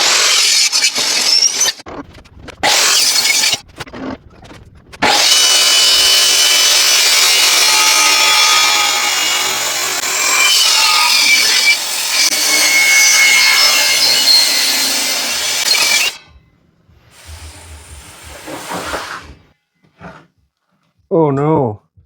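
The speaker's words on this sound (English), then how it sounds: "I'm just gonna go get my saw set up now" A hand saw cuts through wood for a garage-built electric bass guitar, a steady rasping stroke sustained loudly for about ten seconds after a few short bursts, then stopping into quieter handling sounds.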